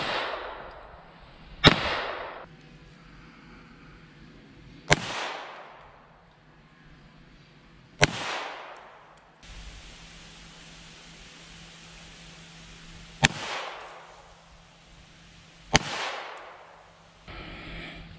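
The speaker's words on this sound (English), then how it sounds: "pistol 15 yards, you get 3 shots per ball, 3 golf balls" Pistol shots fired at golf balls from 15 yards on an outdoor range, about seven sharp cracks spaced a few seconds apart, each with a short echoing tail over quiet background.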